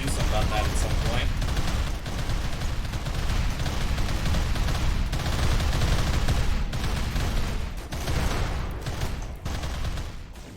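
Las guns fire in the sci-fi colony game RimWorld during a battle, a dense, loud and continuous barrage of rapid gunfire and blasts that goes on for the whole stretch.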